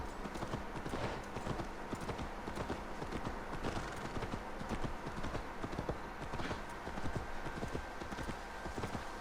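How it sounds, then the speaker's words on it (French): Horse hooves clip-clop steadily at a slow walking pace in Assassin's Creed Valhalla, with dense rhythmic footfalls over a constant game background ambience. "le cheval qui est tellement lent"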